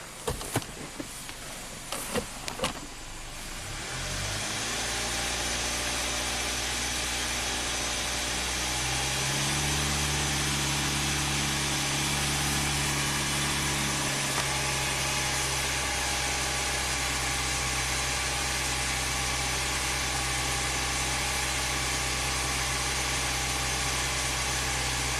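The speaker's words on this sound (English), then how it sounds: "Let's rev it up a little bit." A Hyundai car engine is revved up and held at raised, uneven speed, running rough with a steady vibrating drone after a few seconds of clattering handling noise, close and fairly loud, with no talk.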